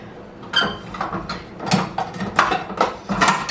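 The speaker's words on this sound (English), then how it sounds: "Okay, I'm going to stop the mixer." A kitchen stand mixer works pie pastry dough that still holds chunks of butter. It gives an irregular, close mechanical clatter and whirring in uneven bursts, then winds down as it is switched off.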